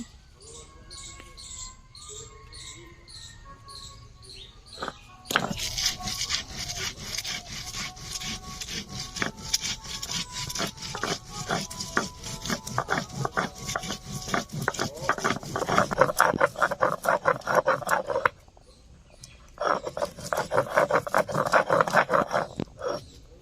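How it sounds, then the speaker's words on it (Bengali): Coriander leaves being ground by hand on a grinding stone, a steady rhythmic scraping and rubbing of stone on stone, loud and close, running in repeated strokes with a brief pause near the end. "ধনিয়া পাতাগুলো বেটে নিচ্ছি"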